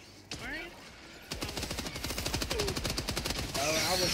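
Automatic weapon fire in Helldivers 2 rattles out in an even, rapid stream of shots lasting a couple of seconds, loud and close, with a single earlier shot and someone talking before and after.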